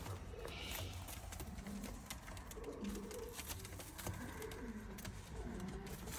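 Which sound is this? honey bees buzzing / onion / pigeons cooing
pigeons cooing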